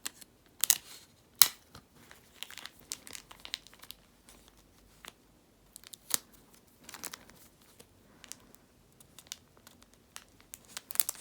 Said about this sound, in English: Let's tape it over on this side first.